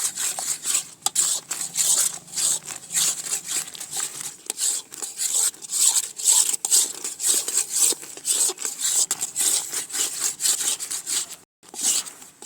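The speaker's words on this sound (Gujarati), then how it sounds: "માવા અને ખાંડની ચાયણી બંને મિક્સ કરી લેવાની" Mava milk solids and sugar syrup stirred together in a pan over low heat in a village kitchen, giving continuous rhythmic scraping and rubbing strokes, close and steady, with a brief pause near the end and no talk.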